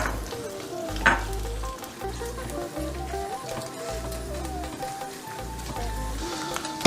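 Coconut pieces frying in hot ghee, a steady close crackling sizzle with soft bubbling and a few spatters, running continuously without talk.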